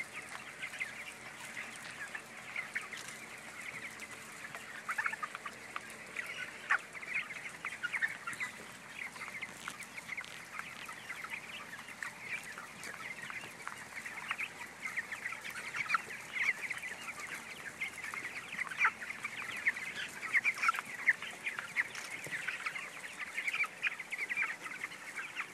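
Chickens cluck and squawk continuously on a Delmarva Peninsula poultry farm, a dense chorus of many birds with frequent overlapping calls at a steady, moderately loud level.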